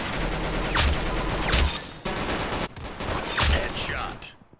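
Bursts of gunfire from the Roblox shooter game Arsenal, several sharp shots in quick succession over a continuous game soundscape, loud and close, with a speaking voice mixed in.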